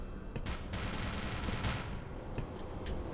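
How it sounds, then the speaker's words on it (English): Gunfire in the video game Black Mesa, a dense rapid burst of shots over constant background noise, moderately loud and steady through the whole moment. "Who's shooting, bro?"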